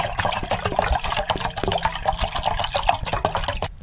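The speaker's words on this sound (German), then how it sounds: "Und jetzt müssen wir erstmal Wasser kochen." Water poured into a pot on a camping stove for a trail meal while trekking the Rheinsteig; a close, continuous splashing pour with gurgling throughout.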